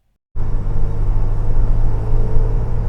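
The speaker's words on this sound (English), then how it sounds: "this raw sound of an Italian Maserati engine" The Maserati engine of a Citroën SM starts abruptly after a moment of silence and settles into a loud, close, deep rumbling idle with a steady throbbing low hum.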